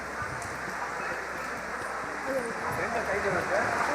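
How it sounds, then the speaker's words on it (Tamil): Heavy rain pours down at a hilltop Murugan temple at Tiruttani, a dense, steady roar of drops on surfaces close by, with faint voices under it. "சரியான மழை முருகா வெளுத்து வாங்குது முருகா"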